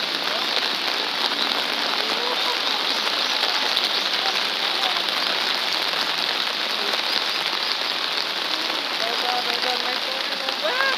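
Rain pours down by a river lined with cherry blossoms in Seoul, a loud continuous hiss of drops with faint background murmur and occasional soft taps beneath the steady wash.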